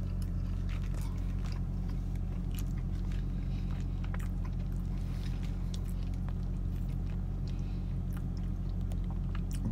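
Loud close chewing and biting of a Beyond Sausage plant-based sausage, egg and cheese croissant sandwich from Dunkin, with soft crunchy bites and mouth sounds layered over a steady low background hum.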